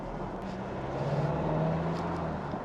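2021 Kia Sorento 2.2 diesel 4WD pulling away in sports mode, a muffled low engine drone heard from inside the cabin that swells gently as it gains speed, fairly quiet and steady with no talking.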